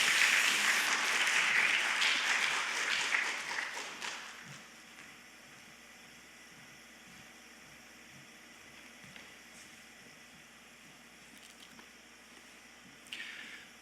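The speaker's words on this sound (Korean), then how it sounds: "우리 한번 축복의 박수로 맞아 주시면 감사하겠습니다" A burst of applause from a church congregation fills the opening seconds, then fades into a quiet room with faint background noise.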